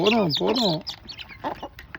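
Aseel hens cluck loudly at feeding time in quick, rising-and-falling bursts close by for the first second, then softer scattered clucks and faint scratching noises follow.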